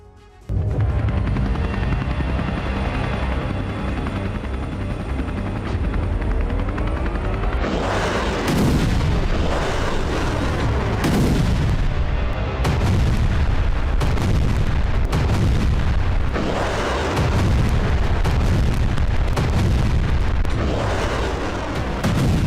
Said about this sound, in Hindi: हवा से बारूदी वज्रपात हो रहा है।